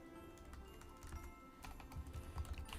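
Typing on a computer keyboard during C++ programming: quiet, irregular key clicks in uneven bursts, with a few heavier taps toward the end.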